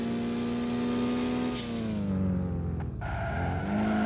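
Volkswagen Saveiro Cross pickup engine revving up and down continuously, a loud, close mid-pitched drone that rises and falls in pitch, with a brief dip near the end before climbing again.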